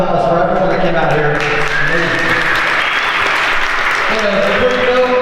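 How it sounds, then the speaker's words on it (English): Sustained audience applause fills the room at the close of a Jersey City tech meetup, loud and steady throughout, with voices mixed in under the clapping. "Just one last round of applause for everyone that came out here."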